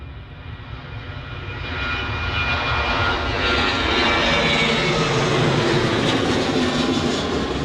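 Ryanair jet airliner at Manchester Airport, its engines roaring loudly and steadily as it passes close by, the noise swelling and holding with no voices over it.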